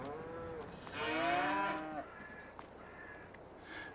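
Cattle in a farm barn mooing: one long, drawn-out, harmonic moo swelling in the middle, followed by fainter lowing and a few small knocks, heard at moderate distance with no talking.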